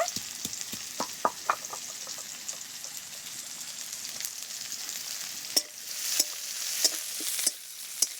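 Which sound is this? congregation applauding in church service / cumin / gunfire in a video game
cumin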